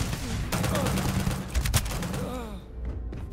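Rapid automatic gunfire in the video game Starfield, dense bursts of shots and impacts over game sounds, loud and continuous before thinning out at the end.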